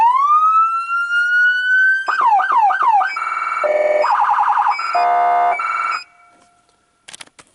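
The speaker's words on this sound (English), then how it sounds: "So that is what my siren sounds like" A firefighter's radio-controlled siren unit runs through several tones: a rising wail, a quick yelp, then a hi-lo warble, all loud and close, before cutting off into a few faint clicks.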